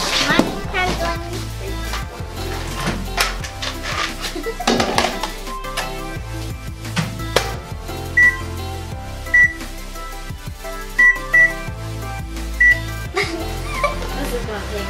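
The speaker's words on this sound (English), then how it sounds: "Now put it in the microwave." A microwave oven heats a bowl of Starburst candy to make edible slime while several people chatter and clatter around it, followed by a series of short, sharp beeps later on.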